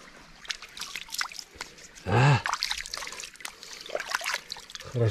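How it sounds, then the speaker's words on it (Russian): Mountain river Ulu-Uzen in Crimea flowing through a shaded gorge: continuous gurgling, trickling water close by, with brief louder splashes and bursts of movement. "река течет"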